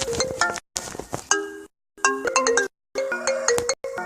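Melodic phone ringtones from an app play in short chiming phrases of bright bell-like notes, separated by brief silences, loud and clear with no talking.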